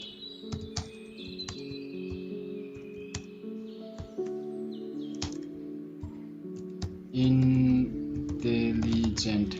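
Keys clatter on a computer keyboard during a typing test, a quick irregular run of close clicks with a louder burst of rapid keystrokes near the end.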